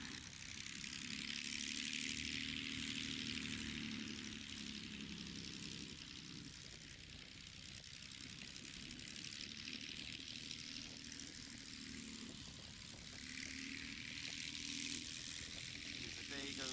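A Swift light airplane taxis along the flight line at Oshkosh, its propeller engine droning steadily with a rising and falling buzz, heard at moderate distance over crowd noise.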